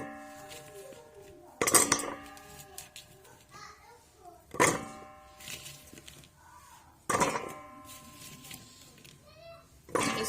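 Chopped carrot pieces drop into a plastic food chopper in several separate clattering clinks with quiet handling sounds between them, while a voice is faintly heard.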